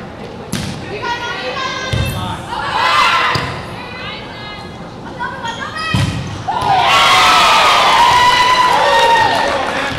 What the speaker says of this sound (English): And the home crowd seemed to like that one.